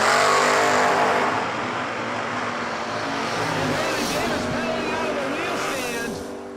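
A Ford Mustang drag car launches down the strip at a bracket drag race, its engine roaring loudly at first, then a sustained, rising howl that pulls steadily away and fades slightly toward the end.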